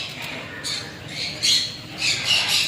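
A parrot squawks in a bird aviary at Sakkarbaug in Junagadh, with three or four harsh, shrill bursts that rise above a low, hollow room ambience.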